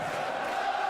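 Large darts arena crowd in Dublin, a brief sustained wash of cheering and chatter from a packed hall, steady and fairly loud with no distinct voice standing out.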